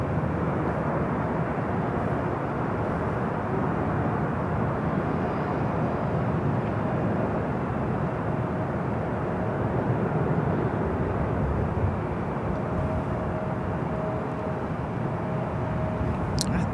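A Boeing 777 taxis at LAX toward Terminal 4, giving a continuous, even jet engine rumble and whine at moderate distance, with no voices.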